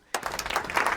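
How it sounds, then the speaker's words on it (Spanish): Audience applause welcoming two guests, Isidro and Sebastián, onto a talk event; clapping bursts in abruptly after a brief silence and continues steadily, moderately loud and fairly close. "Lo recibimos con un aplauso a los chicos."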